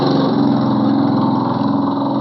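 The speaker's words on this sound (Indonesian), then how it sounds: "ada motor lewat ya" A motorcycle engine drones steadily nearby, a continuous buzzing mid-pitched hum that swells slightly then eases as it goes past, with no voices.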